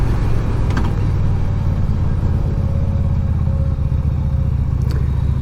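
Steady low rumble of a 1988 Yamaha Virago 250 motorcycle with a sticking throttle, idling at a constant raised pitch throughout with faint outdoor noise around it.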